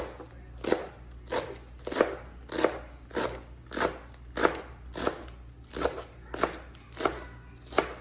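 A knife cuts through rolled-up leaves on a board with about ten evenly spaced, crisp chops, each a short crunchy stroke close by, with no talking.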